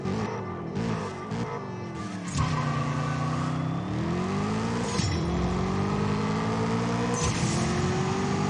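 A race car engine in the CSR2 racing video game revs hard and climbs through gears, with repeated rising pitch sweeps and shift breaks, loud and continuous with no talk.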